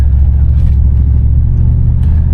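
A 1991 Cadillac Brougham with the 5.7 engine pulls forward under throttle, giving a steady, loud low rumble of engine and road noise that holds evenly throughout with no voices.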